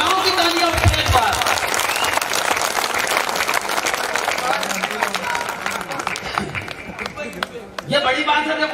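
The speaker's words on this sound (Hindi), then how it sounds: "गांव के बेटे के लिए पूरे गांव की तालियां उठे एक बार।" Hearty applause from a village crowd at a Hindi poetry gathering, loud dense clapping sustained for several seconds with talking underneath.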